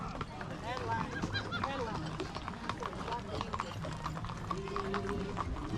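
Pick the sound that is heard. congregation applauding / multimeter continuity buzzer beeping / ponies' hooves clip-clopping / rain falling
ponies' hooves clip-clopping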